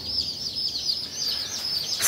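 Baby chicks, both egg-layer and meat-bird breeds, cheeping continuously in a dense, high-pitched chorus that stays close and steady throughout, with occasional soft clucks and no talking.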